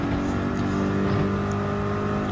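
Race car engines in Gran Turismo 7 during a Manufacturers Cup race at a track with a corkscrew, including Porsches and a Dodge Viper Gr.4, making a steady loud droning hum with no break.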